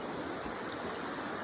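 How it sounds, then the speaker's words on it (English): A small woodland creek flowing out of a cottage lake makes a steady, even rushing babble, close and continuous with no voices over it. "there it is, beautiful small creek going into the woods"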